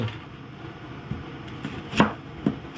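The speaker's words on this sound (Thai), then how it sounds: "ก็หั่นผักไปเรื่อยๆจ้ะแต่หั่นแบบไหนก็ได้" A kitchen knife chops vegetables, onion among them, for Korean-style pickles: a handful of scattered strikes on a board, two of them louder and crisper, with no talking.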